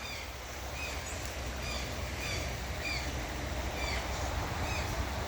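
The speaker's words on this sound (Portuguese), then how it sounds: "O canto dos pássaros" Birds singing beside a stream in open nature: repeated short chirps and whistled calls recur every second or so over a constant, soft rushing of water.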